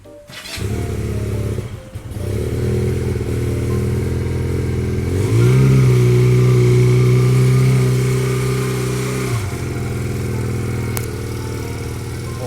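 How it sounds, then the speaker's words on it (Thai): A 2019 GPX Legend 250 Twin motorcycle idling close by, then its exhaust revved up to a smooth sustained higher drone for a few seconds before dropping back to a steady idle. "มาฟังเสียงท่อกันเลยฮะ"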